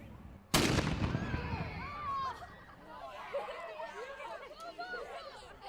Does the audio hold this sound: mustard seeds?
no